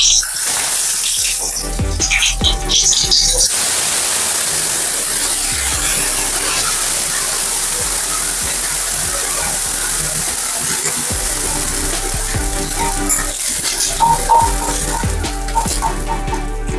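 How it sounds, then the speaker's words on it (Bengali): Green chilies sizzle and crackle loudly in hot oil with black cumin and mustard-poppy paste, a continuous dense frying hiss with occasional sharper pops, with no talking. "কাঁচা লঙ্কাগুলো ভটভট করে ফুটে যাবে"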